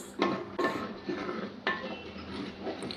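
Crab masala stirred in a pan with a metal spoon, a few irregular scraping clinks against the cookware at close range, quiet and unhurried with short gaps between strokes.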